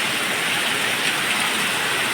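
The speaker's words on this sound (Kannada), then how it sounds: "ನೋಡಿದರೆ ಮಳೆ." Rain pours down outdoors, a loud, even, broadband hiss of heavy falling water that holds steady throughout with no voices.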